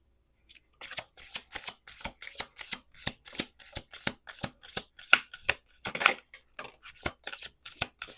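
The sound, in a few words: shuffling tarot cards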